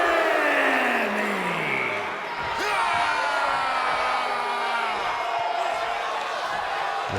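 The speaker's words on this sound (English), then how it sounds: "Look at this packed crowd jumping up and down for this matchup" Packed wrestling arena crowd roaring and cheering during a televised ECW event, a dense sustained wash of voices, loud and continuous, with whoops and thuds of people jumping rising through it.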